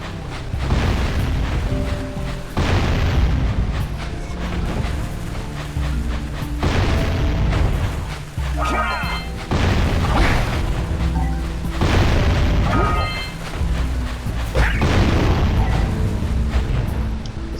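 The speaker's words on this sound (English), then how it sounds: "there's a cannon shooting bombs at us" Cannon fire and bomb explosions in the video game Jak & Daxter: repeated heavy booms and bursts recur every couple of seconds over a dense, steady game soundtrack, loud throughout with no talking.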